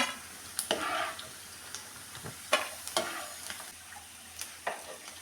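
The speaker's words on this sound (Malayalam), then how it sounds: "ഇനി ഇതൊരു 2-3 മിനിറ്റ് നേരം കൂടി ഒന്ന് വറുത്തതിന് ശേഷം നമുക്കിതൊന്ന് കോരി വേറൊരു പാത്രത്തിലേക്ക് മാറ്റി വയ്ക്കാം." Ginger frying in a pan for a ginger curry, a quiet crackling sizzle with a few sharp scraping stirs and light clicks, fairly close and alone without talk.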